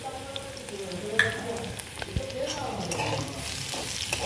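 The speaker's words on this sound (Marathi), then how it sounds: "थोडा लसूण फ्राय होऊ देऊया." Garlic frying in a pan with green chillies, a steady low sizzle punctuated by scattered stirring clicks and scrapes, close and moderately quiet with no talk.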